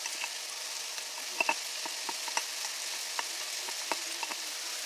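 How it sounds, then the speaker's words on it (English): Minced mushrooms sizzling in melted butter in a hot skillet, a steady close frying hiss with scattered small pops and crackles, no voices. "Now that your pan is nice and hot and you've melted a 1/4 stick of butter, you want to add your minced mushrooms"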